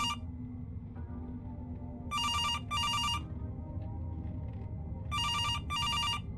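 Two pairs of trilling phone rings repeat in a horror video game, each pair of short bright bursts separated by a long pause over a steady low ambient drone.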